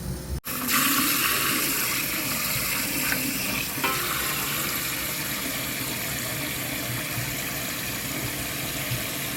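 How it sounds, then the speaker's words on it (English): Fresh, clean water poured over brewing grains for a final wash in home distilling, a loud, continuous rushing and splashing pour that starts abruptly and holds steady throughout, with no talk. "you can take some fresh, clean water and dump it over your grains again to give it a final wash"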